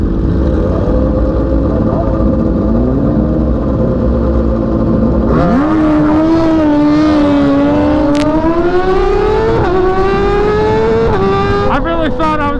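Yamaha R1 and R6 sport motorcycles launching off the line at a race start, engines droning steadily and then rising in sharp revving climbs with gear changes, loud and close throughout.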